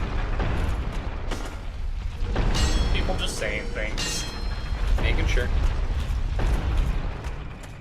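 Heavy, continuous rumble of grinding rocks in Dark Souls, swelling in loud waves, with people talking over it.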